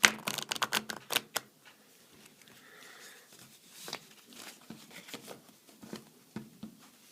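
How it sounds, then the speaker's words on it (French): Two decks of 54 playing cards being shuffled for rummy, a brisk crackling riffle of flicking cards at the start, then softer scattered taps and slides of cards settling, close up. "Il est très important de bien mélanger les cartes avant de jouer."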